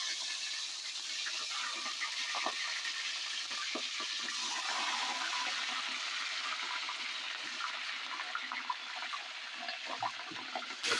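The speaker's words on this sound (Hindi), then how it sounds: "अब जो है इसमें मैं नली नहारी का जो गोश्त है, हाफ केजी गोश्त है नाजरीन" Half a kilo of beef shank for nihari sizzling in hot oil, a steady broad hiss and crackle throughout with scattered small pops, close and continuous with no talk.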